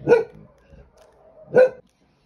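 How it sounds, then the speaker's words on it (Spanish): A small dog barks twice, short sharp yaps about a second and a half apart, close by with quiet in between. "estaba ladrando mi perrito"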